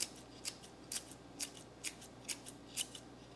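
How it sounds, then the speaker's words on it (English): Kitchen herb scissors snip through fresh herbs, eight crisp, evenly spaced cuts in a steady rhythm, close and clear with no talking. "I'm gonna use the kitchen herb scissors"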